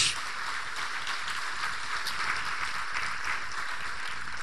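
A church congregation applauding during a sermon, a dense, steady wash of clapping from many hands that holds at an even level throughout.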